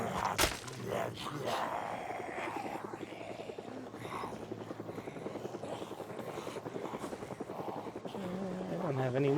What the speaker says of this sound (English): Oh, there we go. That's the helicopter.